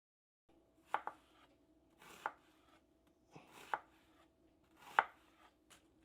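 A knife thin-slices half an onion on a cutting board, giving four or five separate, sharp knocks spaced out over several seconds, close and quiet with no voices.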